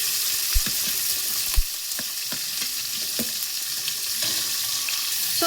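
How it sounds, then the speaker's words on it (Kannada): Onion and capsicum frying in oil with cumin, curry leaves and green chilli for a tomato saaru, a steady loud hiss of sizzling broken by occasional stirring clicks and scrapes, with no talking. "ಈರುಳ್ಳಿ ಮತ್ತು ಕ್ಯಾಪ್ಸಿಕಮ್ ಚೆನ್ನಾಗಿ ಎಣ್ಣೆಲಿ ಫ್ರೈ ಆಗಬೇಕು"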